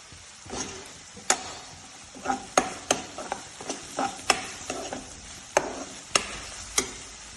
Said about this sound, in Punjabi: ਹੁਣ ਇਹਦੇ ਵਿੱਚ ਆਪਾਂ ਪਾ ਦਿੰਦੇ ਹਾਂ ਲਸਣ ਤੇ ਅਦਰਕ ਦਾ ਪੇਸਟ ਇੱਕ ਚਮਚ ਪਾ ਦਿੰਦੇ ਹਾਂ